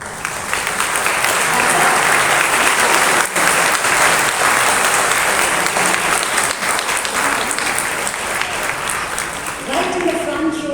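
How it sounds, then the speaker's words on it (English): A huge round of applause from an audience after a piano and singing performance, sustained dense clapping that fills the space loudly for several seconds before fading near the end. "There was this huge round of applause"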